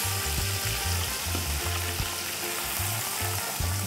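Big snapper pieces fry in a pot of hot oil for Jamaican escovitch fish, giving a steady loud sizzle and crackle with low bubbling throughout.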